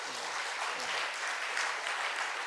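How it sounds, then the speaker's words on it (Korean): A church congregation at a Korean evening devotional service applauds steadily for a couple of seconds, a dense, even wash of clapping from a crowd without any break. "우리 고마우니까 우리 박수 한번 두 번 쳐드리죠"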